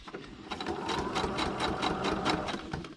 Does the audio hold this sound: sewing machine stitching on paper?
yes